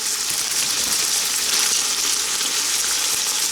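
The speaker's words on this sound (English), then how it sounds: "I am going to go on and put this whole bag of broccoli slaw in here" A whole bag of broccoli slaw hitting a pan with only a little grease, giving off a loud, steady, hissing sizzle that holds without a break.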